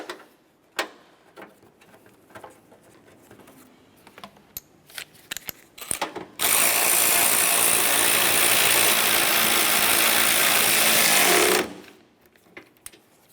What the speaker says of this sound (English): Start that mounting bolt in and snug it up.